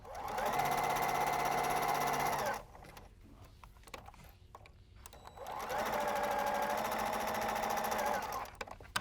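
A sewing machine stitching quilt block pieces runs in two loud, steady bursts of rapid mechanical hum, separated by a few seconds of quiet handling and faint clicks, close by.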